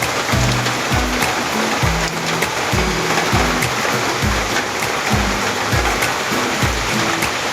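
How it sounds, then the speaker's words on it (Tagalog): A steady, loud downpour of heavy rain hisses continuously, with repeated low pulsing sounds recurring through it and no voices. "Ayan walang minto ang ulan."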